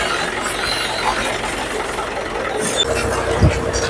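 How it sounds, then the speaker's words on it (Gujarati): A tractor engine runs steadily at a farm field while preparing for sowing cotton seed with a seed drill, a continuous rumbling drone with no talk over it. "મિત્રો ટ્રેક્ટર ચાલુ થઈ ગયું છે વાવવાનું."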